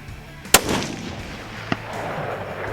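A Ruger American Gen 2 .308 rifle fires one loud, sharp shot outdoors with a rolling echo, followed a second later by a smaller, fainter report.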